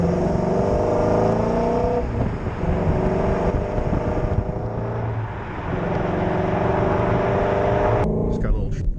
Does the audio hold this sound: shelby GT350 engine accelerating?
yes